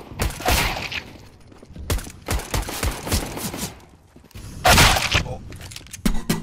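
Gunfire rattles through a round of a competitive shooter video game in several bursts and single loud shots, some near and sharp, spread across the clip with pauses between.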